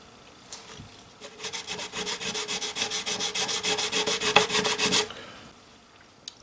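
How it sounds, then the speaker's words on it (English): Fine 600 grit sandpaper on double-sided tape rubbed against mandolin wood in steady rapid back-and-forth strokes, a close, raspy scratching lasting about four seconds before stopping. "Maybe I'll try a little bit of sanding here."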